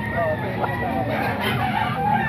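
A rooster crows amid other chickens at a market where roosters are being sold, the crowing partly buried in dense, constant background noise and distant chatter.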